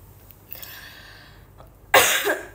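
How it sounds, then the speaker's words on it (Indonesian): A young woman coughs once, sharp and close, near the end of a quiet stretch during a live chat stream. "batuk udah sebanyak 4 kali"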